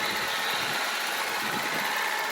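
A used Toyota car with a manual gearbox idles steadily up close, a constant low rumble and hum with no change in pace and no voices.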